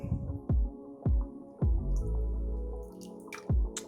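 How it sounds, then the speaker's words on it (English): Chicken gizzards being coated in buttermilk give wet, squishy plops and drips, about six soft liquid splats at a steady pace. They are close and fairly quiet, with no talking. "Now we got our buttermilk and we gonna coat this in this buttermilk."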